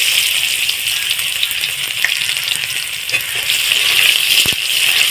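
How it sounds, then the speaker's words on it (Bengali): Sliced onions frying in hot oil with dried chilli and nigella seeds, a loud continuous sizzle with faint stirring clicks, close and unbroken for the whole stretch. "পেঁয়াজটাকে আমি লাল লাল করে একটু ভেজে নেব"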